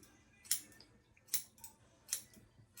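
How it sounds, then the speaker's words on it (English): Scissors trim a hair unit with quick, crisp snips, about four of them spaced irregularly, close and quiet, with no talking. "So now I'm just trimming it"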